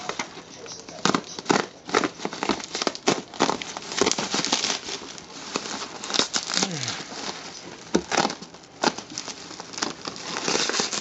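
Utility cutter snipping and slicing through material while an RC airplane with a 40cc twin engine is assembled, giving a run of close, sharp cuts and crinkling rustles at an uneven pace.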